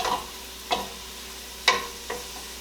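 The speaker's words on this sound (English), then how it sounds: "I'm going to add my 2 chopped leeks into that. Give it a good stir." Chopped leeks sautéing in melted butter in a large pot, a soft low sizzle broken by three or four sharp scraping clinks as a utensil stirs against the pot.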